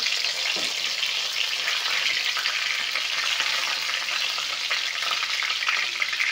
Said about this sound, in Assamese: তেজপাতখিনি অলপমান গৰম হ'ব দিছোঁ